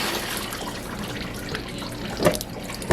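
Coolant pours steadily from a disconnected upper radiator hose during a water pump replacement on a TSI engine, a continuous splashing rush with a couple of sharper gushes near the end and no talking.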